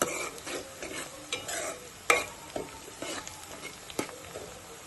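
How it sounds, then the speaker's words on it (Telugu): Chicken frying in a pan until browned, with a soft continuous sizzle under irregular scraping stirs and a couple of sharp utensil clinks, close but fairly quiet, with no voices. "మంచిగా ఫ్రై అవ్వాలి, ఇలా కలర్ బ్రౌన్ కలర్ వచ్చేంత వరకు ఫ్రై అవ్వాలి."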